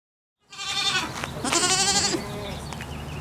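A baby goat on a farm bleats loudly and close, two quavering calls in quick succession, the second longer and more strained, with no talking.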